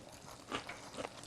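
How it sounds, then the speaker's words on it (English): Someone bites into crunchy fried corn poppers, a Southern recipe, giving two faint, close crisp crunches in an otherwise quiet room. "Real crunch."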